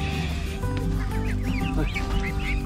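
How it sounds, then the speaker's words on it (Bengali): Ducks quacking at Bakkhali Eco Park, a dense and fairly loud flock chorus of overlapping nasal calls that runs without a break. "আমার আগে হাঁসগুলো ঢুকবে মনে হচ্ছে"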